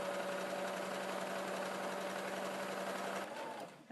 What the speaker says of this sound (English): I'm going to sew straight up that pocket